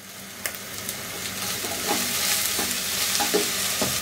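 Spices stir-frying in a pan with ginger-garlic paste as the water cooks off, a steady sizzle with several scraping stirs of a spoon against the pan, close and continuous, no talking.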